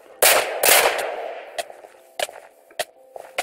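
Gunfire from a gun in the Minecraft video game: two loud, close bursts of rapid shots, then a few single sharp cracks spaced irregularly, with no talk over them.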